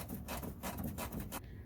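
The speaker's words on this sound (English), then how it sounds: "So I've got my handy ratcheting wrench in there, and I'll ratchet this guy off." A ratcheting wrench backing out a deep fender screw on a 2008 Toyota Prius, giving a quick run of raspy, evenly spaced clicks up close that stops abruptly.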